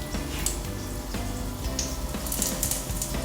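Pierogi fry in a pan with a soft, continuous sizzle and a few light clicks of utensils, close and moderately quiet.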